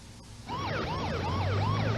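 A wailing emergency siren from a fire truck carrying an injured boy to hospital, rising and falling in a fast repeating sweep, loud and close over a low engine rumble.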